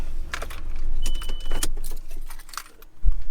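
Keys jangle close by with metallic clinks as a Toyota truck engine idles, then a brief click and thump as the motor shuts off.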